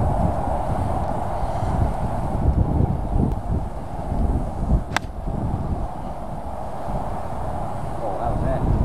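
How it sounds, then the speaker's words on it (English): Strong gusting wind buffets the microphone on a golf course during a match play round, a loud rumbling roar that surges and eases continuously, with voices talking faintly under it. "Oh, that wind picked up so hard."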